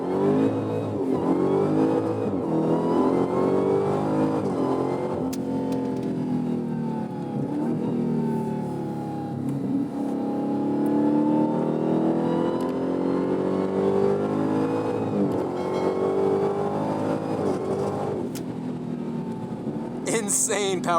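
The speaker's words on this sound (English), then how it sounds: "Insane. That supercharger whine." A Dodge Challenger Black Ghost with a supercharged 6.2-liter V8 revs loud and close, its engine note rising and holding steady in sustained pulls with a high supercharger whine riding over the roar.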